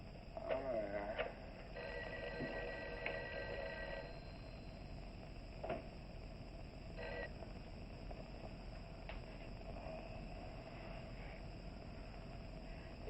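A telephone rings on the line in a 1959 film, repeated electronic ring bursts at a steady pace, moderately faint, with talk and hiss around them.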